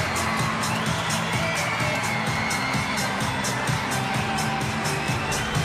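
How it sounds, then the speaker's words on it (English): A stadium crowd at an A-League football match between Adelaide United and Central Coast Mariners cheers a late goal, a steady, dense roar of voices with shouts and whoops, loud and continuous throughout. "It's 4-1, and it's met by a cheer, but a belated one at that"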